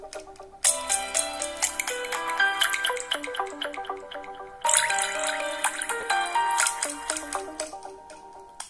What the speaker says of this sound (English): I will quickly go to this ringtones, and I will show you how it is like this.